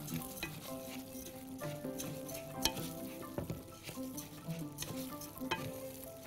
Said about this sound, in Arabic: وهبدا اقلب